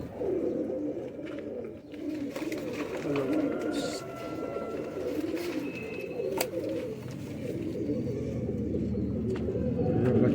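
Faqeer gull pigeons, the black-faced breed, coo softly and repeatedly at close range over a busy, noisy background of other birds and household sounds.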